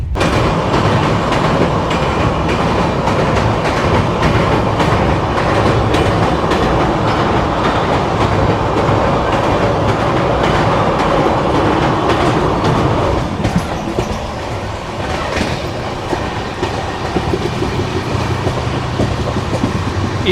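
Karnataka Sampark Kranti Express running on the Bangalore to Delhi route, with a steady loud rumble and rhythmic clickety-clack of wheels over rail joints, continuous throughout with brief squeals.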